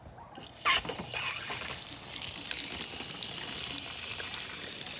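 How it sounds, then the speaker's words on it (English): Water is switched on and rushes through a garden hose at a rural homestead, starting with a brief burst and then settling into a steady, close, hissing flow that runs on without pause. "Okay, turn it on."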